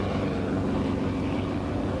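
A helicopter flies at an air show at an air base, heard as a steady, loud, rumbling engine drone that holds without a break.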